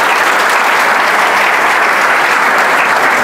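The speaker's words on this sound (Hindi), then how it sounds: "जोरदार ताली बजाएं भैया" Vigorous applause from a crowd at a prize distribution ceremony in a career institute, loud and close, many hands clapping in a steady unbroken roar from start to finish without any voices.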